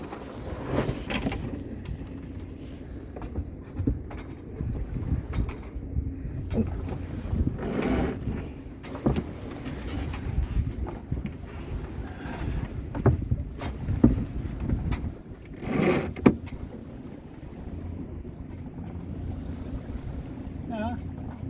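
A sailboat beating upwind: steady wind rushing across the microphone and water washing against the hull, with occasional voices and a few brief knocks and rattles of gear on board.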